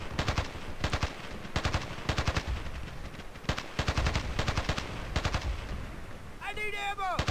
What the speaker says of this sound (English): Certainly not the fastest firing assault weapon, but the one of the most deadly.